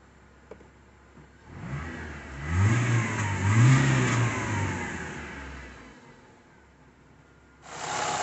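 A car engine rumbles at idle with the air conditioning switched off, revs up smoothly for a few seconds, then settles back down, heard close by with no talking.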